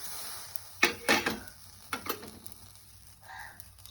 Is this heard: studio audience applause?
no